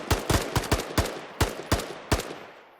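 Gunfire in the zombie video game Zombies War: about nine sharp shots fired in quick bursts with short pauses between them, fairly quiet overall.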